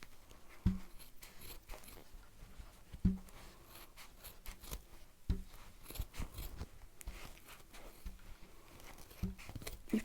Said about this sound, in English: You have to use quite strong scissors